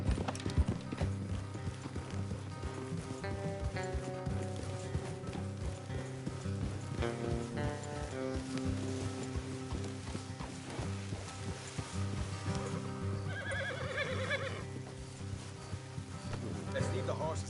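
Horse hooves clip-clop along at a walking pace with an occasional whinny, over a busy soundtrack and ambient background in a PS4 video game.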